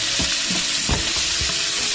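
Onions and garlic sizzling as they are sautéed in a pan, a dense continuous frying crackle with a few soft stirring scrapes, close and without talk.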